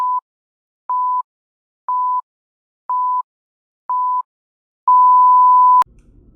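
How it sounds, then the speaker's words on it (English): A countdown timer sounds five short, evenly spaced electronic beeps at one pitch, then one long final tone that cuts off abruptly into faint noise. "countdown timer"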